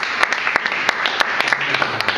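A seminar audience bursts into applause, with sharp, distinct claps rising out of a busy clapping bed, loud and close, and a faint voice underneath.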